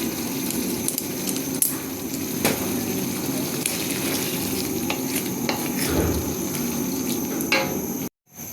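Yogurt hits sautéed chicken in hot oil for an Afghani chicken malai curry, giving a steady, fairly soft sizzle with scattered clinks and scrapes of stirring in the pan, then a brief cut near the end.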